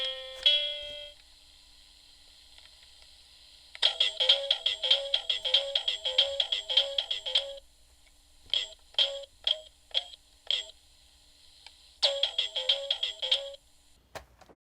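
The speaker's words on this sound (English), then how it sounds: "Let's rewind it now, and let's hear some playback." Playback from a Radioshack CTR-122 cassette tape recorder: a bright ringing tone, then a run of rapid repeated chiming pulses, brief separate bleeps and another quick burst, close and fairly loud with no talk.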